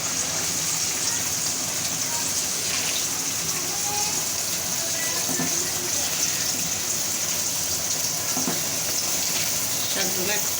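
Malabar spinach cooking with shrimp in a hot pan, giving a steady, even sizzle and frying hiss throughout, with faint stirring sounds.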